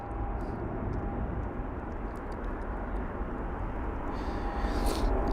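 An Air China Airbus A350 arrives at London Heathrow, its engines giving a steady, moderately loud jet rumble throughout, with no talk over it.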